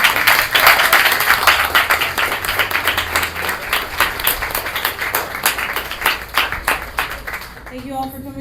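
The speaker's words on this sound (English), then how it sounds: "Let's have a round of applause for all of our readers" A literary reading audience gives the readers a round of dense, lively clapping that stays strong for several seconds, then breaks off abruptly near the end as a voice briefly starts.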